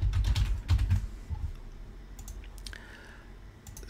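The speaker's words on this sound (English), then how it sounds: "if I press a key, I'm going to press Q" Computer keyboard keys pressed in a quick burst of clicks and taps during the first second and a half, followed by a few scattered lighter clicks, close and fairly soft.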